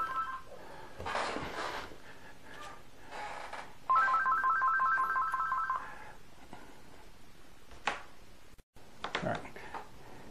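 A telephone rings with a repeating electronic ringtone for a couple of seconds in a room, standing out clearly among scattered handling clatter and knocks from demolding plaster castings.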